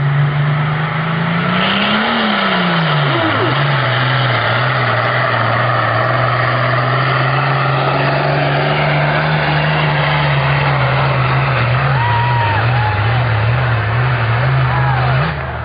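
A pulling truck revs hard at a national truck and tractor pull, its engine drone holding high and wavering in pitch, loud and continuous, while an announcer talks over it.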